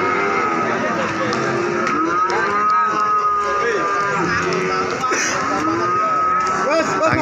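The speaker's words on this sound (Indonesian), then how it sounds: "Ini sapi-sapi bibitan super edan ya" Cattle at an outdoor livestock market in heavy rain low with long, drawn-out moos over steady rain and crowd noise, with people talking nearby.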